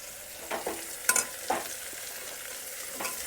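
Garlic chili paste sizzles steadily in hot oil while a spoon clinks and scrapes through it a few times, close up and quiet, with no talking.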